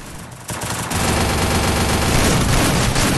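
Rapid, loud automatic gunfire from the shooter game Counter-Strike: a dense stream of close shots that begins after a brief lead-in and keeps firing without a break.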